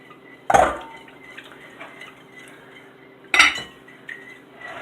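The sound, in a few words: empty bowls being moved aside on a counter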